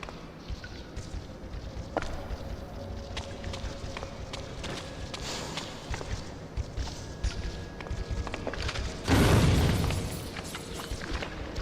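Grenade blast in Resident Evil Outbreak against spiders: a single loud, deep boom near the end, set against a steady bed of game noise with scattered footsteps and small impacts.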